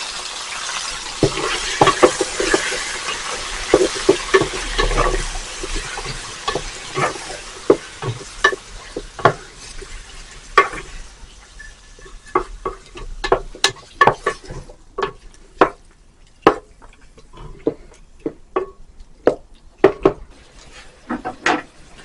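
Chicken pieces, bone-in and boneless, frying in a pan with roasted whole spices for chicken korma, giving a close sizzle broken by frequent sharp scrapes and clacks of stirring, busier at first then sparser.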